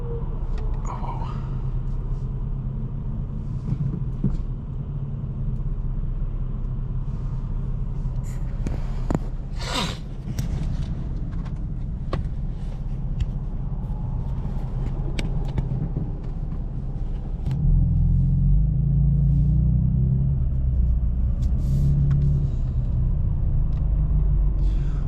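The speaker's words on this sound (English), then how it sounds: "I'm stuck in traffic" Low steady rumble of road traffic heard from inside a car stuck in a jam, with engine hum and passing vehicles continuous throughout and growing slightly heavier toward the end.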